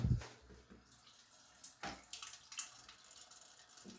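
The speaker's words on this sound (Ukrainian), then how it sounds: "Розливання води з бойлера." Water drains out of an electric water heater (boiler) during a heating element replacement, a soft, continuous splashing and gurgling flow with faint irregular drips and knocks, no voices.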